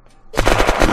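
Gunfire in the survival video game Unturned: a quiet lead-in, then a loud burst of rapid automatic shots rattles steadily close up to the end.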